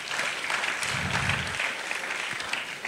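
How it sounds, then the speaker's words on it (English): Audience applause at a career conference session, a sustained wash of clapping from a crowd, fairly loud and even, with a brief low rumble partway through. "A round of applause, please, for Mrs. Ayi."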